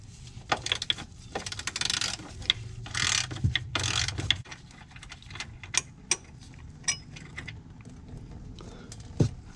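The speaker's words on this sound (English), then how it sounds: "go ahead and release this 10mm bolt that mounts this bracket that holds the fuel filter" A 10mm bolt on the fuel filter bracket of a Ford GT350 being loosened with a ratchet, giving a run of close, uneven mechanical clicks and ticks over a low hum.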